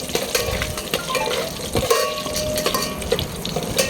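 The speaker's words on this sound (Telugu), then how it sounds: "సో ఇవి వేగిపోతాండాయండి, నెయ్యిలో బాగా వేగుతాండాయి" Bay leaf and cardamom pods sizzle in hot ghee, a steady crackling fry with occasional stirring and clinks of the pan, close and moderately loud.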